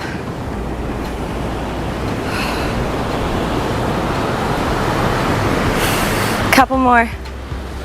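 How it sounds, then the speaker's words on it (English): Steady broadband ocean surf washes continuously at moderate loudness, with a spoken voice briefly over it near the end. "That ocean's getting louder."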